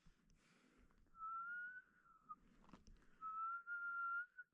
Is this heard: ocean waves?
no